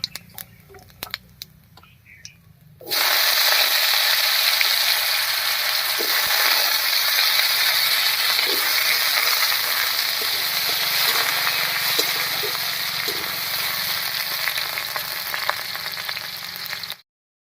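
Cut potatoes drop into hot mustard oil after a few seconds of quiet clinks, setting off a loud, steady sizzle that continues close by with faint scraping stirs.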